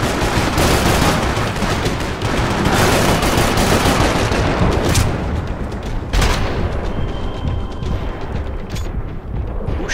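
Dense, sustained gunfire from the Max Payne 3 video game, with rapid overlapping shots and bursts filling the scene continuously at high loudness, with no talk.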